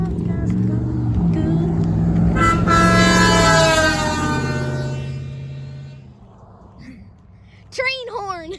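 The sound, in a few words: train horn honking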